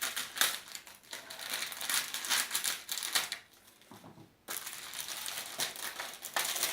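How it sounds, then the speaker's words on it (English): Scissors cut through curry puff pastry, close crisp snips and crinkling cuts in an uneven run, with a short pause partway through and no voices. "I'm going to show you how I'm cutting the pastry to make curry pop"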